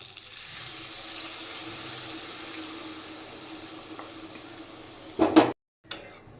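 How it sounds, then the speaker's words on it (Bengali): Water is poured into a pan of fried fish and radish pieces, giving a steady hissing sizzle with a louder splashing burst near the end, followed by a short gap and a brief clatter. "এবার আমি জল দিয়ে দেব"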